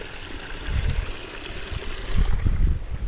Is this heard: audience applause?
no